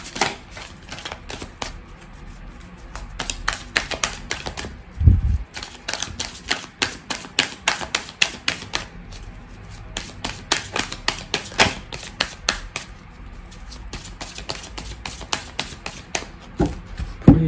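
Coffee-ground oracle cards are shuffled by hand in a steady run of crisp riffling and flicking bursts, close and fairly loud, with a few soft thumps and no talking.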